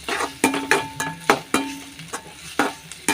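Tomatoes being sautéed in a pan for a brinjal curry, with repeated stirring scrapes and clacks of a spoon against the pan at an irregular rhythm over a low sizzle, close and clear with no talk.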